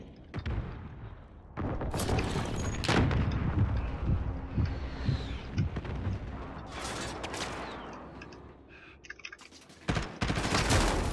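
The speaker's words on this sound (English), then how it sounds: "Be advised, friendly precision airstrike inbound." Precision airstrike explosions and gunfire in Call of Duty: Modern Warfare during a Team Deathmatch, with heavy booming blasts and bursts of shots rolling on continuously, loud and dense, with a few sharper cracks near the end.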